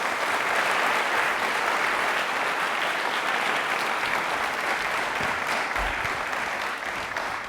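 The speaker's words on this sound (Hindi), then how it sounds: "एक बार प्लीज जोरदार तालियां हो जाए इनके लिए" Sustained, loud applause from a studio audience at a televised quiz program held at UEM Jaipur, welcoming a guest and holding steady for the full stretch without pause.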